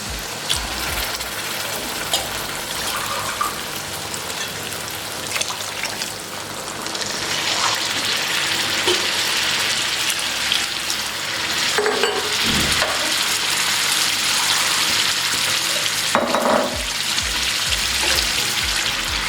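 Water pours steadily into a hot cooking pot of rice for chana pulao, hissing and sizzling loudly throughout, with a couple of faint clinks near the end.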